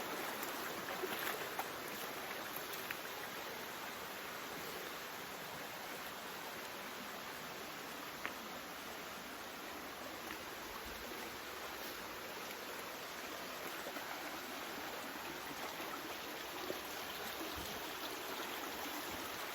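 Steady rushing water of a stream flows continuously, a broad even wash with occasional small splashes and no voices.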